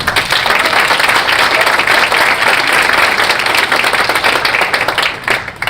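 Audience applause at a Baltimore Center Club event, a dense, steady roar of many hands clapping that fills the room at full volume for several seconds before thinning slightly at the end.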